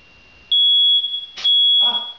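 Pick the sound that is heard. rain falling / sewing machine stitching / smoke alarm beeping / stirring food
smoke alarm beeping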